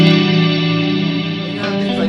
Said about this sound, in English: This combines reverb and modulation to give you this really expansive, lush texture that you can hear.